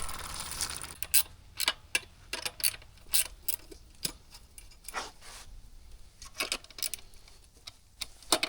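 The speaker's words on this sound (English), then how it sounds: "Let me go ahead and pull this rear wheel off real quick." Rear wheel coming off a 2025 Kawasaki KLX110RL dirt bike on a tire stand: irregular ratcheting clicks and metallic tool rattles in quick bursts, close by and moderately loud, with no talking.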